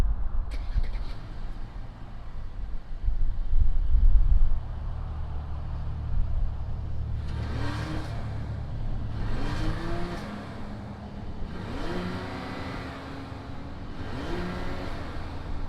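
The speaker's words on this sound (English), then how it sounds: "fire up this S450 and see what it sounds like" A 2019 Mercedes-Benz S450 sedan fires up and settles into a steady idle, its low engine hum running throughout, with a few faint rising chirps near the end.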